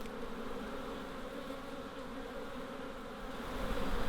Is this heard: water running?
no